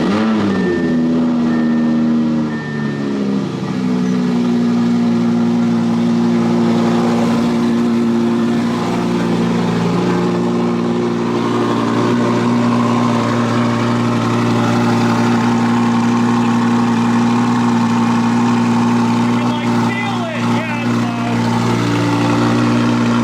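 Audi R8 with a titanium exhaust, cold-started in winter after sitting for a long time, holds a loud, steady, deep idle close by, droning evenly with slight shifts in pitch.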